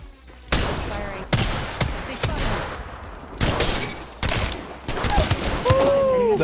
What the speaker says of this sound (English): The first two 30-30 shots were so lucky.